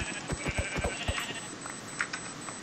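Sheep in Minecraft bleat in a few short, faint calls, with soft clicks and game sounds scattered around them, and no one speaking.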